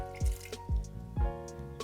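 Shoyu is poured into a pot, heard as three distinct close, glugging splashes in quick succession, each with a short wet gurgle.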